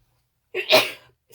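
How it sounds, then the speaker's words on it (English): A single close, loud sneeze bursts out suddenly from a person at a crafting table, with a short breathy tail trailing off before quiet returns. "let's see if I'm going to sneeze here"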